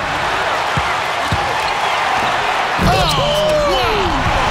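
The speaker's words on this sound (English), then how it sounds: "And he slams that one down." A basketball slam dunk in the NBA 2K12 video game lands with a sharp thud, following a few ball bounces, as a crowd roars and cheers loudly under continuous commentary.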